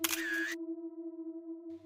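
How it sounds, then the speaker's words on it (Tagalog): A camera shutter sound effect gives a short mechanical snap, then a clean sustained electronic tone rings on its own and ends with a faint second click, quiet and isolated. "Parang tunog ng camera shutter."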